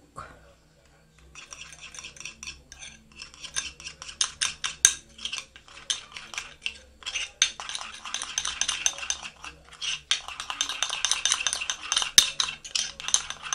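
An egg white and milk powder face mask paste is stirred with a metal spoon in a small bowl. The spoon scrapes and clinks rapidly and unevenly, close up and crisp, in bursts that grow busier after a quiet start.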